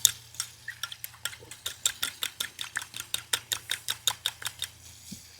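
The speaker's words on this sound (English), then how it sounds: "Just whisking it together." Steady rhythmic whisking of a vinaigrette emulsion in a bowl, about twenty quick, evenly spaced metallic clicks and scrapes, close and fairly quiet, with no voices.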